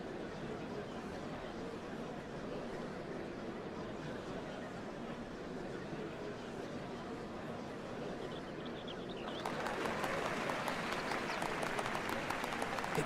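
Crowd applause in Final Fantasy XIV at the changing of the Dawn Servants, a steady wash of distant clapping and murmur that swells louder and brighter near the end.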